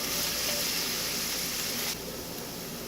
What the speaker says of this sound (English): allow this to saute for just a couple of minutes until they start to soften up a little bit